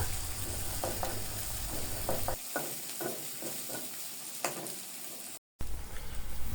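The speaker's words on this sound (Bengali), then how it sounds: "এখন আমি তেলের উপরে পেঁয়াজ মরিচের সঙ্গে কুচো চিংড়িগুলো কিছুক্ষণ ভেজে নিব।" Onion, chilli and small shrimp fry in hot oil in a pan, giving a steady close sizzle broken by repeated scraping stirs and a brief drop to silence near the end.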